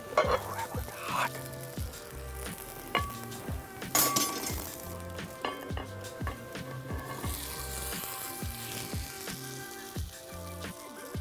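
Hash browns fry in a pan alongside eggs cooked in bread, giving a steady soft sizzle under frequent metallic clinks and scrapes of utensils and pan, with no voices.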